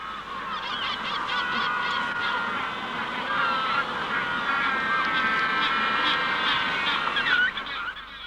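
Magellanic penguins calling at a breeding colony, a mother with two well-grown chicks nearby; loud honking, braying cries overlap continuously, close and harsh, with several birds calling at once.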